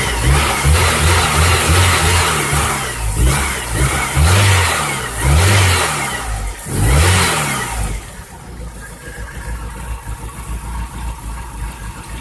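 A Chevrolet Cavalier engine with injector trouble revs repeatedly under throttle, loud and close, with rising surges before it drops back to a rough idle.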